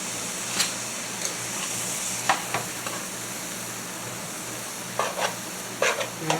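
Seasoned ground meat, with a few dashes of Worcestershire sauce, sizzles steadily in a pan while a utensil scrapes and breaks it up in a few short bursts, close and clear.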